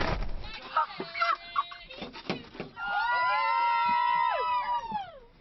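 Several people shriek and yell loudly together in high, sustained screams while taking a cold outdoor shower in the Arctic, with scattered short cries beforehand, sounding close and outdoors.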